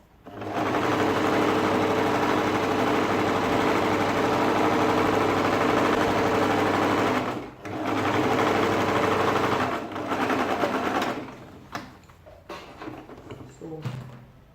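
A sewing machine runs steadily and loudly while stitching a ladies' shirt dress, then pauses briefly and restarts in shorter, uneven bursts toward the end.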